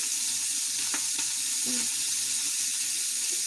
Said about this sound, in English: I'm going to stir until the onion begins to soften and release the liquid, about 4 minutes